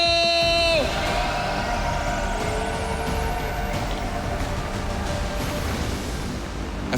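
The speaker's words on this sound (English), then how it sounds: "Give a round of applause for Stephano!" A crowd cheers and applauds at a StarCraft II WCS Fall 2019 quarterfinal esports event, a loud, sustained roar filling the hall after a brief musical sting with a rising electronic sweep.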